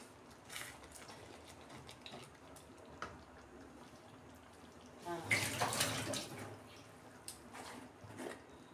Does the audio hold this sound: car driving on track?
no